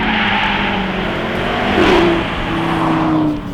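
A 2015–2016 Audi RS3 Sportback (8V) engine pulls hard during a test drive, its loud rising drone climbing in pitch with a gear change partway through, heard up close with no talking.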